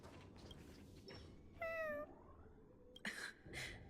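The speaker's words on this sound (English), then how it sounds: "Cat." A cat in the video game Honkai Star Rail meows outside, first one clear drawn-out meow and then two shorter ones, over quiet background ambience.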